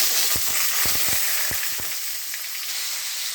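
Potatoes drop into hot oil with dried red chillies, raising a bright, steady sizzle with a few soft clunks and stirs early on, then continuous frying alone.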